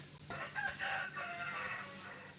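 A rooster crows at a distance, a drawn-out call rising over soft background clucking from other chickens.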